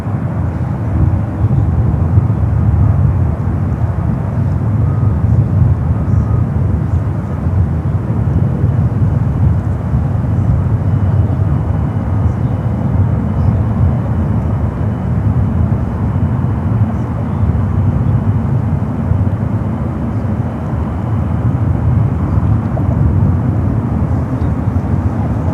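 A United Boeing 777-300ER taxiing toward runway 28 at San Francisco airport gives a steady, continuous low jet-engine rumble, loud and unbroken throughout.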